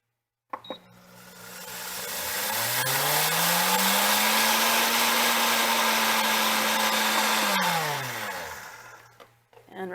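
Flaxseed whirs in an electric grinder: a click, then the motor spins up to a loud steady high whine, holds for several seconds and winds down, followed by a brief rattle.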